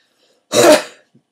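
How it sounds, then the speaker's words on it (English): One short, harsh cough, close and loud, in otherwise silence. "got a bit of a cough"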